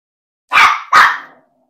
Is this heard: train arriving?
no